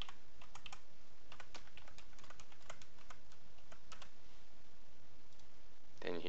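Fingers tapping out a price on a computer keyboard, a quick clatter of light clicks in uneven bursts over a steady hiss of background noise, close up, with a louder cluster of keystrokes at the very end.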